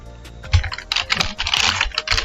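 Code being typed on a computer keyboard: a close, quick burst of clattering keystrokes with uneven rhythm and no talk.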